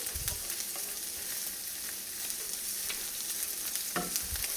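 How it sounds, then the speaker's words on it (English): Bacon frying in a pan for a bacon cheeseburger, a soft continuous crackling sizzle with a few faint scrapes and thumps as a spatula presses it down, with no voices. "our bacon, once we get to this point, I like to push down with a spatula"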